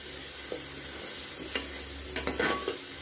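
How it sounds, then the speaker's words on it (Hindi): Spices with chickpea masala (turmeric, cumin, coriander powder) being stirred and fried in a pan, a steady close sizzle with a few scraping stir strokes near the end, no voices. "तो मैं अच्छे से मिला लेती हूँ।"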